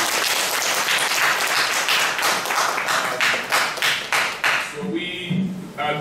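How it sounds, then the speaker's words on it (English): A lecture audience claps in a dense, even wash that breaks into a few scattered, separate claps near the close, with faint talking emerging underneath. "Can I also ask us to clap again, please?"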